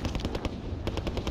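A ceiling-mounted gun in a shooter video game fires a rapid, loud, continuous burst of automatic gunfire with an even rhythm, no talk.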